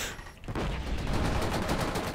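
Rapid video-game gunfire from Killzone multiplayer on PS4 comes as a dense, continuous automatic burst after a brief lull, loud and close.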